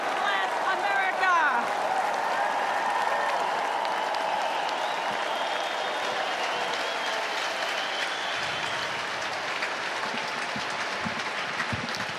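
The Republican National Convention crowd applauds and cheers after Kimberly Guilfoyle's speech: a dense, sustained roar of clapping from a large arena audience that fills the whole stretch and slowly thins toward the end.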